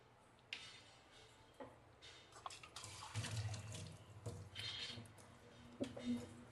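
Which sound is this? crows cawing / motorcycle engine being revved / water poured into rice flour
water poured into rice flour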